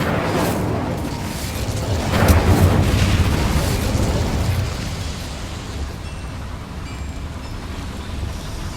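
An Incendio fire spell from Hogwarts Legacy whooshes and roars in a broad rumbling burst that swells and then fades into a steady low hum of background game ambience.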